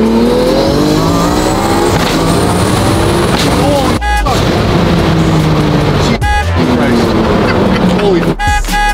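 A twin-turbo Lamborghini Aventador SVJ accelerates hard through three loud, rising revving pulls, each ending in a sharp shift break, while people speak excitedly over the engine.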